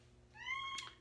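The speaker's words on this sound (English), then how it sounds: "That's my cat." A house cat gives a single short meow indoors, a clear rising-then-falling cry heard close but quietly over a faint room hum.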